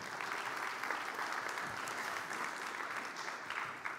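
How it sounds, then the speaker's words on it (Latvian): Steady audience applause at a tech event memorandum signing in Latvia, dense clapping sustained throughout at moderate distance with no talk. "Sagaidām ar aplausiem."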